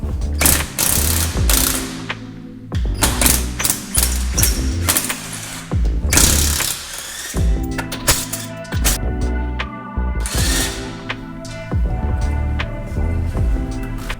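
A ratchet loosens lug nuts on the front wheels of a 2012 Subaru Forester, giving loud, close bursts of rapid clicking that come in quick runs with brief pauses and sharp clanks between them.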